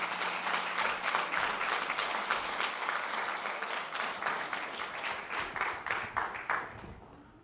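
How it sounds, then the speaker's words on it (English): An audience claps and applauds at a school of communications 50th anniversary gala, a steady dense wave of clapping that thins and fades toward the end. "Please, let's give her another round of applause."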